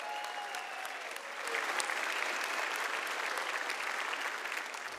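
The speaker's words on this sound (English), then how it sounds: "Can we give them a round of applause?" A crowd applauds steadily for the whole stretch at a university commencement ceremony, a dense wash of clapping that swells slightly after the first second and holds loud to the end.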